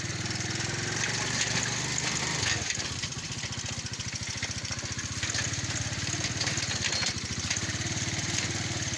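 A motorcycle engine runs while riding on a slippery road, a steady low putter with a rapid firing rhythm, heard close and continuous.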